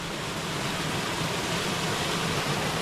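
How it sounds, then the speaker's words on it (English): Steady rushing water pours continuously from a small waterfall in Clocaenog Forest, UK, a dense even hiss close by with no voices. "I mean, it's technically a waterfall, I'll give it that."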